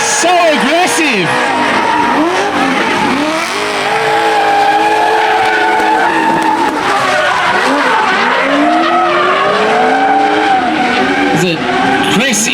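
Racing cars at a motorsport event, including an R32, slide through a corner with loud, sustained tire squeal and skidding over roaring engines, while voices talk over the noise.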